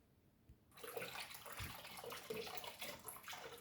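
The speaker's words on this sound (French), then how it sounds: "je vais ouvrir 1 litre, une brique de lait, et je vais ajouter les 1 litre" Milk poured from a one-litre carton into a bowl, a soft continuous liquid gush starting abruptly and running steadily for a few seconds, quiet and close.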